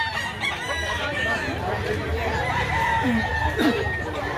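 Gamefowl rooster crows amid a busy outdoor scene, a couple of short crowing calls rising over steady background chatter and crowd noise, with people talking throughout.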